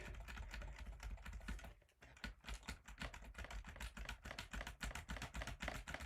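Rapid, continuous clatter of computer keyboard keys pressed during a ZX Spectrum BASIC game session, a dense rattling rhythm with one brief pause, close and fairly quiet with no talking.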